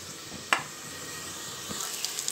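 Onions frying with ginger and garlic in a pan give off a faint, steady sizzling hiss, with a couple of soft clicks from the cookware.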